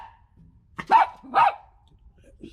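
Tucker the dog gives two sharp, close barks in quick succession against a quiet background, with a faint low yip at the end.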